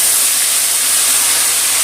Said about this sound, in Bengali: দিয়ে অপর পিঠটাও ভালো করে ভেজে নেব।